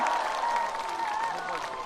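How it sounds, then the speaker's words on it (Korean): A festival crowd at an outdoor harbor event applauds a trot singer, a brief wash of clapping with a sustained tone ringing through it. "박수 주세요."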